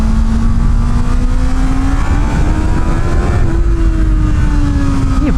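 A Honda CB650R motorcycle accelerates hard, its engine a loud, continuous rising roar with a steady climbing pitch through the gears, heard up close with heavy wind noise.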